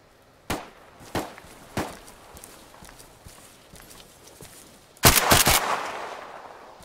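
Gunshots in a video game fired toward the players: three single sharp cracks spaced about half a second apart, then a louder cluster of rapid shots, fairly close.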